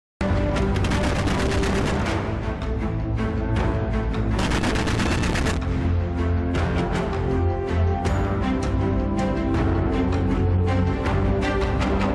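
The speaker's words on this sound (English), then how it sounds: "This is what flak looks like these days" A modern anti-aircraft flak gun fires rapid, continuous bursts, a loud dense chatter of shots with heavy booming bursts in the middle, sustained throughout with no pauses or speech.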